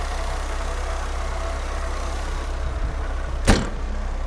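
Idling engine and exhaust of a 1984 Pontiac Fiero Pace Car, a steady low rumble held throughout, with a short sharp knock or clunk near the end.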